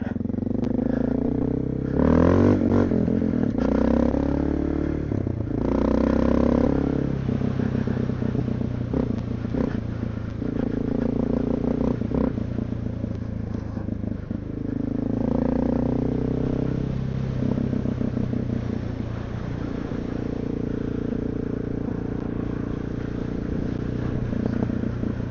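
A Honda XR650L motorcycle rides through snow in two-degree cold at Lake of the Ozarks, its steady engine drone rising and falling with throttle changes and rattling clatter throughout.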